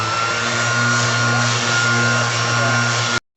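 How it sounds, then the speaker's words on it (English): A Ridgid orbital sander whirs steadily at a constant pitch, a loud continuous motor hum that cuts off abruptly at the end. "We got a Rigid sander and a Rigid vacuum"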